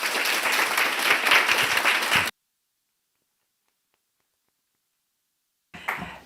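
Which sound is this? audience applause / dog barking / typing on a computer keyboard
audience applause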